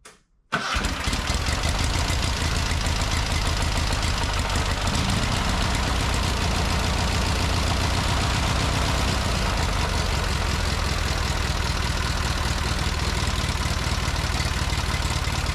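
A rebuilt John Deere 317 garden tractor engine starts after a brief quiet moment, then idles loudly and roughly with a steady knocking throb that continues unbroken to the end.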